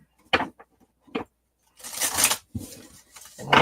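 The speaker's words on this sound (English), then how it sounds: "shuffle up our cards." A deck of reading cards is shuffled up close: a few short card slaps at the start, then a longer burst of riffling and further brisk shuffling strokes.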